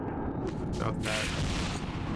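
An explosive fireball bursts in S.T.A.L.K.E.R.: Shadow of Chernobyl, a loud, dense roar that swells after the first second and lingers over a steady rumbling game background.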